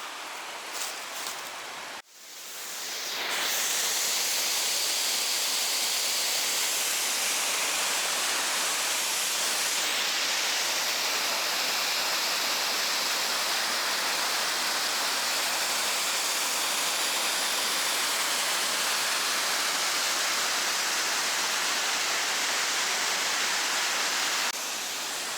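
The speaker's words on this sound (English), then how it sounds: "right now I want to look at this river" A river rushes in a continuous, loud, broadband roar close by. After a brief quieter moment at the start, the flow holds steady for more than twenty seconds with no speech.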